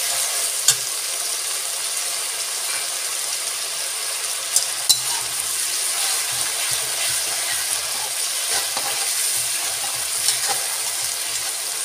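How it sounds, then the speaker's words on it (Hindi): Grated tomato frying with onion in a pan for a restaurant-style mixed vegetable dish, giving a steady loud sizzle throughout with occasional sharp crackles and soft stirring scrapes. "अभी टमाटर का पानी की आवाज़ आ रही है"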